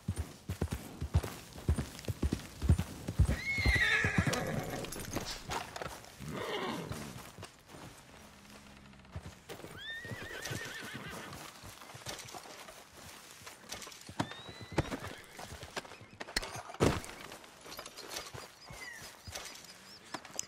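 A horse in the video game Red Dead Redemption 2 clip-clops with hoofbeats in irregular bursts and lets out several whinnies and snorts, fairly close and moderately loud.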